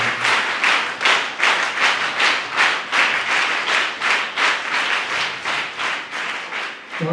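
Crowd applause at a 15 August Independence Day celebration held by a charitable trust, rhythmic unified clapping pulsing steadily for several seconds, full and close, without speech over it.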